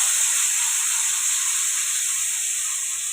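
Ground spice paste hits a hot pan of fried potatoes for a Bengali fish curry, giving a steady, loud hiss and sizzle that holds evenly throughout without talk.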